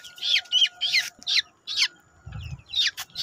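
Poultry chickens cluck during a vaccination session. A rapid series of sharp, close clucks and squawks comes in uneven bursts against a quiet background, with a short low thump partway through.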